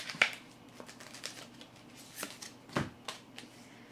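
Oracle cards shuffled by hand before a concluding card is drawn, giving a few soft riffling bursts and light taps, faint and close, with no talking.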